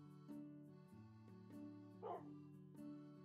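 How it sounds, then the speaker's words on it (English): A Minecraft dog gives a few short barks and yips spread across a quiet stretch, over a sustained in-game music drone. "Oh, it's another dog."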